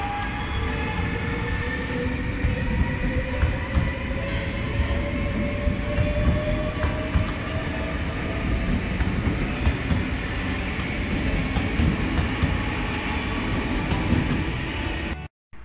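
A train pulls into Ede-Wageningen station, a loud sustained rumble with squealing brake tones and rolling wheel noise that holds steady for about fifteen seconds before ending suddenly.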